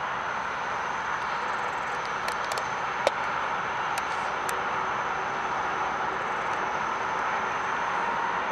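A CSX auto train carrying cars passes in Birmingham, Alabama, heard from a distance as a steady, faint rumbling roar with occasional light metallic clicks and squeals.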